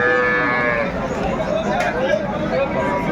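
A moo from improved-breed dairy cows and calves rings out at a crowded open-air cattle market in Dinajpur, Bangladesh, near and clear at first, then fading under constant chatter and bargaining voices.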